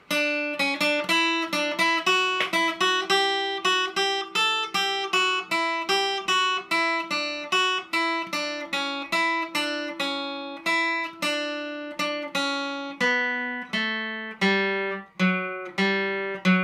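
A bright, plucked requinto guitar plays a slow, steady melodic ornament of evenly spaced single notes, each ringing briefly, with no talking.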